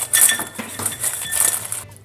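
Potatoes are mixed with a garlic and herb mixture in a bowl, giving quick clinks and scrapes of a utensil against the dish in a loose, busy rhythm.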